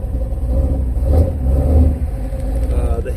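A rebuilt Ford 351 Windsor V8, bored thirty over with a 302 firing-order cam and Flotek 185cc heads, revs in a steady low rumble with a couple of swells, close by, with brief voices alongside.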